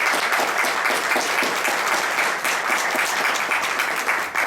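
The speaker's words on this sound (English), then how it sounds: "let's give our candidates a round of applause." Steady, loud applause fills the room at a Chamber of Commerce mayoral forum in Richmond as the audience claps for the mayoral candidates, a thick continuous wash of many hands without pause.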